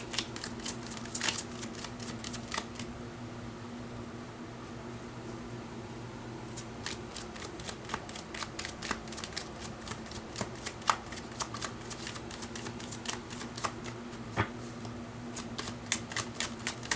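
Tarot cards shuffled by hand in steady bursts of crisp riffling and flicking, close and fairly soft over a low constant hum, with no talking.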